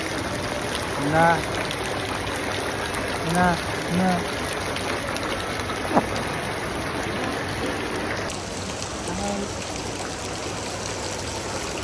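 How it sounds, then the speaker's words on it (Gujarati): A baby girl of about eight to eleven months plays with water, making a continuous trickle and light splashing while an adult talks to her and short vocal sounds break in. "પાણી જો રમે છે"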